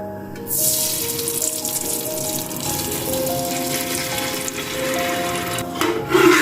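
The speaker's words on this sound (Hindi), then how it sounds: "इसमें सबसे पहले हम डालेंगे घी।" A steady, loud sizzling hiss of desi ghee poured into a hot pressure cooker, continuous throughout with a brief surge near the end.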